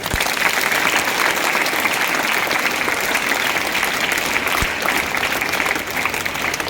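Loud, sustained applause from an audience at a school Foundation Day event in India, steady and dense for the whole stretch with no talking over it.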